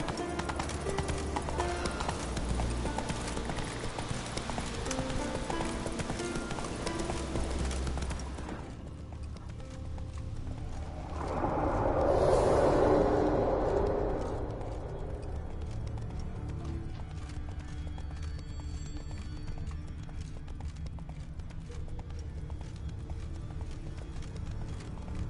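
Geralt's horse Roach from The Witcher 3, hooves clip-clopping at a steady run that continues throughout, with a louder swell of movement partway through.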